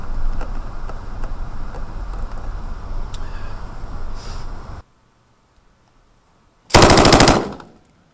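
U.S. Air Force Security Forces fire an M240B or M249 machine gun on a range: a long, loud, rapid automatic burst, a pause of near silence, then a second short, intense burst.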